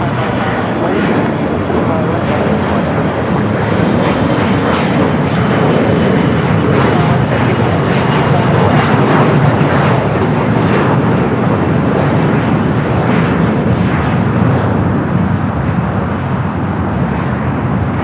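An airliner takes off from runway 25 right at LAX, its jet engines a loud, sustained roar that fills the whole stretch without a break, with voices speaking underneath.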